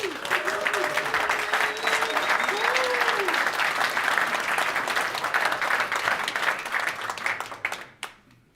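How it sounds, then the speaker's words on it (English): Meetup audience applauds a welcome at a last-mile parcel delivery event, sustained loud clapping with a few cheers over the top, fading out abruptly near the end. "Give yourself an applause."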